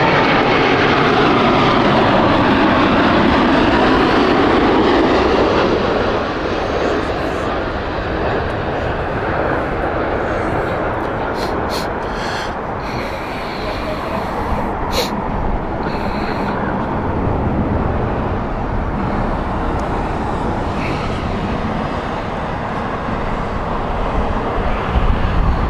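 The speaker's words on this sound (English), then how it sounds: "This is the Dash 10 Dreamliner." A Boeing 787-10 Dreamliner at Heathrow passes with a loud, sweeping jet roar that peaks early, then settles into a lower sustained rumble with traffic-like hiss and occasional talk beneath.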